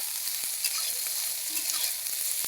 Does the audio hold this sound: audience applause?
no